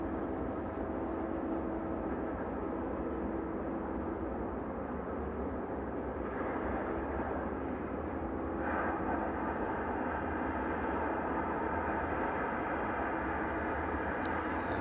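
A Jet2 airliner at East Midlands Airport produces a steady, loud engine roar with broad rumbling noise that holds constant throughout, heard at a distance with no speech.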